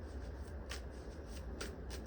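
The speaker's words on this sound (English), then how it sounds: "Whatever the cards get me from the first shuffle, or 2." Tarot cards are shuffled in a soft, rapid riffling patter that stays close and steady over a low background hum.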